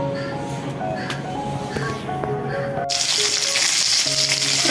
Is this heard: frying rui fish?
yes